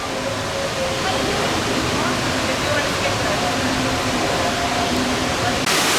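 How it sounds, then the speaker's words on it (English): Constant roar of the large entrance waterfall at the National Aquarium in Baltimore, splashing nearby, loud and unbroken, filling an indoor space. "From this bridge, you get a different view of that big entrance waterfall."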